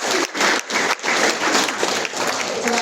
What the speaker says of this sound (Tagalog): Palakpak po tayo.